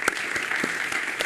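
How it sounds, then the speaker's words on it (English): An audience claps steadily for the presenters at a PhD dissertation forum, a dense and even burst of hand claps that fills the room. "let's just give one more hand to all the presenters."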